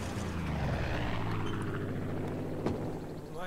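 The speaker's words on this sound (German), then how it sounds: "Das Flugzeug ist zurück!" A propeller plane in the video game Far Cry 5 drones loudly and steadily, the engine tone shifting slightly as it flies, with no voices.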